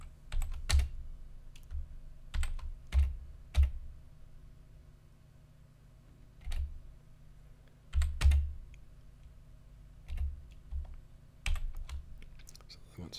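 Keys on a computer keyboard, including the shift key, are pressed in scattered bursts of close clicks and taps separated by quiet pauses, with low room hum beneath.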